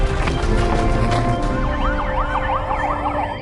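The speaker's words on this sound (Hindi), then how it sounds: "तुरंत बत्ती और सायरन बंद कर दो।" Police car sirens wail, rising and falling in loud overlapping sweeps, with a steady tone underneath, close by and continuous.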